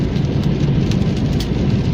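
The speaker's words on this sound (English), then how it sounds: "it's raining and it's a cold rain" Steady cold rain falls in spring weather, a dense, continuous hiss of drops on surfaces that holds at an even, fairly loud level throughout, with no talking.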